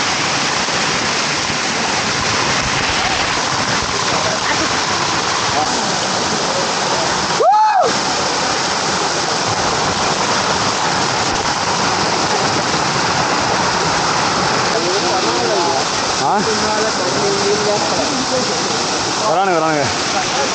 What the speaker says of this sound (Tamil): நம்ம வந்து கரெக்டாக வாட்டர் ஃபால்ஸ் எட்ஜில் இருக்கோம்